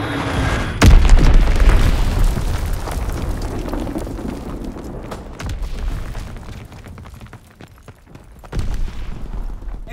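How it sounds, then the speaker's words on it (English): Deep booming blast from an enemy bomb in Call of Duty WW2 multiplayer, a loud low impact up front that rolls into a long rumbling decay, with a second heavier thump near the end. "Enemy bomb incoming."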